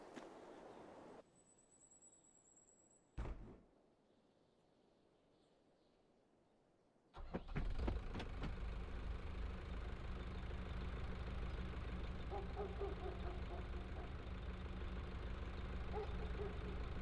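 A tractor engine in Farming Simulator 22 cranks briefly after a short tone, then catches and settles into a loud, steady idle with a continuous low rumble and faint knocking.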